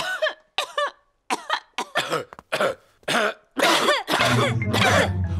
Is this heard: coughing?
yes